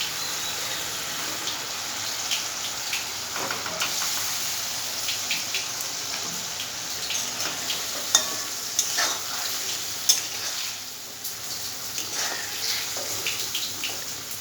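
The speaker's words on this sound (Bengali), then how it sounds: "মশলা থেকে তেল ছেড়ে গেলে ভেজে রাখা আলুগুলো আমি দিয়ে দেবো।" Fried potatoes stirred into sizzling tomato spice paste in oil for a rohu fish curry with mango, a steady close frying hiss with scraping stirs and occasional clinks, no talking.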